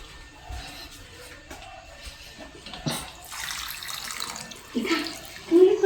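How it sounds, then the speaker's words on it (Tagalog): Water running and splashing into a cooking pot holding chicken for a patis soup, a steady liquid wash that swells louder toward the end. "Tapos lagyan na lang natin ng tubig."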